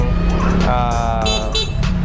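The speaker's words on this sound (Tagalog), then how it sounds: "yun yung busina niya. Ang lakas ng busina." An e-bike's horn, loud and close, giving a couple of short harsh toots with a voice heard around them.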